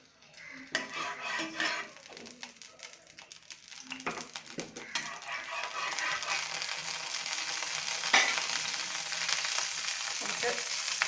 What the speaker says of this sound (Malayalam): പാൻ ചൂടാകുമ്പോൾ എണ്ണ ഒഴിച്ച് കൊടുക്കുക.